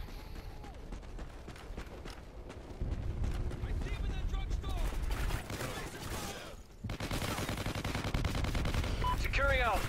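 Rapid automatic gunfire and explosions from the video game Call of Duty: Ghosts, loud and dense, with bursts continuing through the whole span and brief breaks between volleys.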